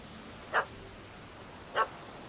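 Dog barking in The Witcher 3: Hearts of Stone, two short, sharp barks about a second apart over a steady hiss of background ambience, fairly distant and faint.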